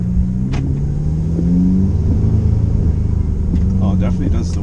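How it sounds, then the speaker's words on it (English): An Audi S3 fitted with a CTS turbo intake and turbo inlet pulls hard from a launch, its engine rumbling loudly with climbing tones and a continuous drone throughout. "Definitely does the whooshes and stuff now."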